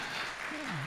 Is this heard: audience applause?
yes